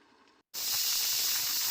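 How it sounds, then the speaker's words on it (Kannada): A pressure cooker whistle bursts out after a brief silence, releasing a loud, steady, close hiss of steam as mutton keema biryani cooks on the stove. "ನೋಡಿ ಕುಕ್ಕರ್ ಒಂದು ವಿಜಿಲ್ ಬಂತು"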